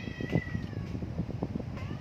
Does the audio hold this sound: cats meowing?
yes